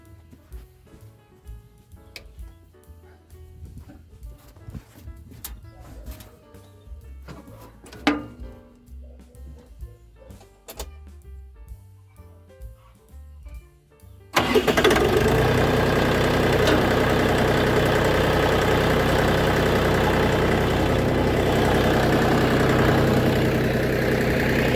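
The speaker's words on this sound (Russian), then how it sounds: "Трактор завелся с полоборота." A Shifeng 244C compact diesel tractor sits quiet with faint clicks and rustling, then its engine fires abruptly and settles into a loud, steady, knocking diesel idle that runs uninterrupted to the end.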